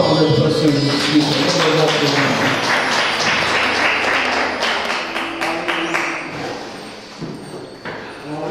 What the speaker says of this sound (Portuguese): A salva de palmas para o Senhor Jesus Cristo.